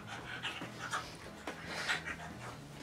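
A dog pants rapidly and steadily up close, quick rhythmic breaths with a faint whimpery edge, continuing throughout with no talking.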